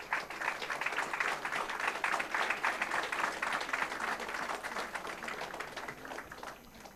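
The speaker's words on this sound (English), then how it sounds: "a huge round of applause for the finalists" An audience at an international criminal trial advocacy competition applauds the finalists, a sustained, dense round of clapping that swells and then gradually tapers off.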